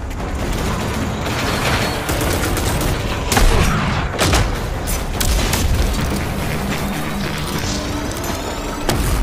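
Weapons firing in RAGE 2, a chaotic run of loud booms and gunfire bursts, with sharp blasts around the middle, layered over continuous action noise with no talking.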